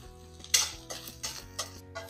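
Chopped garlic sizzles softly in a pan while a utensil stirs and scrapes in a few irregular strokes, close and quiet, under a faint background hum.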